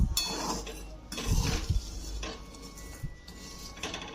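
Peanuts dry-roasting in a pan over a low gas flame, stirred constantly, with close clattering and scraping of the spoon against the pan and a brief soft voice in the background.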